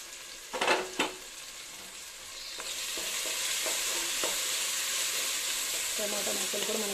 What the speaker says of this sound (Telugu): టమాటా ముక్కలు కూడా మనకి ఆల్మోస్ట్ వేగిపోయాయి